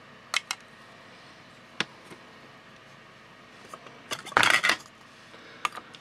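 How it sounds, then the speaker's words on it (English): Acrylic paints being mixed in cups for fluid art pouring: scattered light clinks and taps of a stirrer against the cup, with a busier cluster of scraping knocks near the end, all fairly close and quiet. "So I'll carry on mixing the colours"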